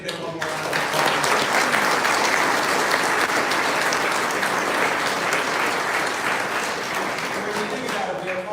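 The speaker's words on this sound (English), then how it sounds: "Let's give it one more round of applause." A full round of audience applause at a Computer History Museum panel on AI chips, loud and continuous, swelling early and holding steady before easing slightly at the end.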